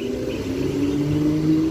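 A suburban train pulls away from platform 2 at Bayswater station, with a steady droning motor hum and rising whine, close and loud throughout.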